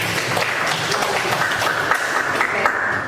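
Schoolchildren in a classroom give a steady round of applause, with dense, even handclapping that continues for the whole few seconds.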